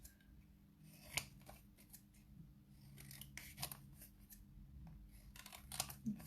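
Scissors snip out a simple pair of paper trousers for a kids' scarecrow craft, three sharp cuts spaced a few seconds apart over a low, steady background hum and light paper rustling.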